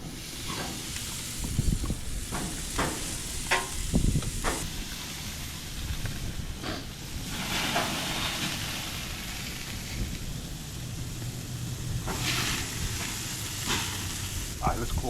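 Chicken breast sizzles on an outdoor grill on a hot Texas day, a steady frying hiss running throughout with occasional pops and scrapes, plus faint background voices.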